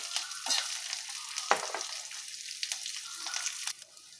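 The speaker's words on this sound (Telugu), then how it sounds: "ఇలా వేగిన తర్వాత ఒక ఉల్లిపాయ, కొంచెం కరివేపాకు వేసుకుందాము. ఇవి కూడా వేగనిద్దాము" Cumin seeds, sliced onion and curry leaves fry in a pan for vegetable paneer rice, giving a soft, close sizzle broken by several brief sharp crackles and spatula scrapes, fairly quiet and without talking.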